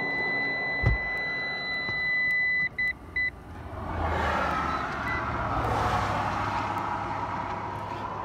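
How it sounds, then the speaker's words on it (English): Warning alarm of a 2018 Lexus RX 350L third-row seat, a few thin electronic beeps in a short run, then cut off as the wind and nearby road noise of cars passing outdoors swell behind it. "This alarm goes off if it's not in the right spot. You can hear that alarm"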